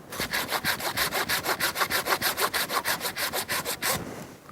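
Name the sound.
hand saw cutting a large olive tree branch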